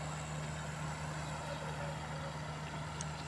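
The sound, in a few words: trawler boat engine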